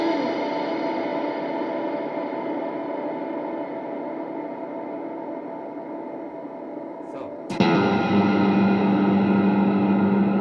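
Slap bass played through a Fractal Audio VP4 reverb effect: a dense, sustained reverb wash rings steadily, then a sharp snap cuts in near the end and sets off a brighter, louder ringing tail.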